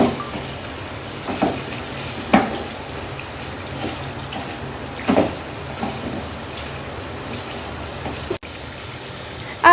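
White chicken with chopped coriander frying in a pan gives a steady, moderate sizzle with occasional soft stirring clicks close by, and no talk over it.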